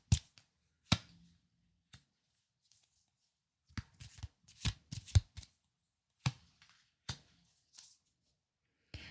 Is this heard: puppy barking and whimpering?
no